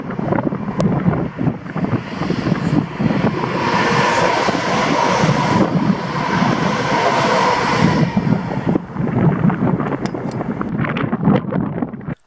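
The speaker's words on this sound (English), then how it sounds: "The first train was 2CO2, the 1603 ScotRail service to Cumbernauld from Mulgai." A ScotRail passenger train passes at Magiscroft, a broad, loud rushing roar that builds and holds over several seconds, mixed with heavy wind buffeting on the microphone, then eases off near the end.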